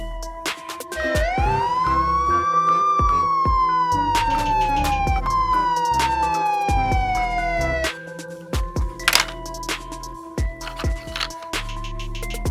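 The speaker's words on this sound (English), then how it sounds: "Police motorbike." A police motorbike siren sweeps up and then slowly glides down in pitch, loud and near. Sharp clicking and knocking sounds run throughout, and it falls to intermittent clatter at the end.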